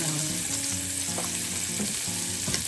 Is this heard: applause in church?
no